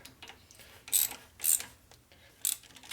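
A wrench ratcheting as it tightens a bolt on the kickstand of a rigid chopper motorcycle, with three short, sharp bursts of clicking close up and no talk.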